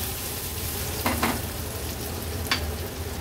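Onion sizzles softly in a pan while being stirred at home for a Maharashtrian vegetable dish. A steady frying hiss runs throughout, with a few brief scraping strokes of the spoon.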